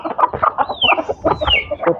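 Chickens clucking close by in a home poultry setting, an old hen among them, with repeated short clucks and a couple of rising squawks in an irregular, busy rhythm and no talk.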